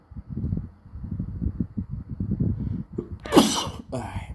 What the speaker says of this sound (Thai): จามนะ